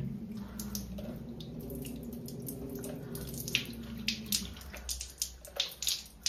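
Tap water runs over an iPhone 13 Pro Max, a steady close gush that stops midway and gives way to irregular drips and splashes, with no talking.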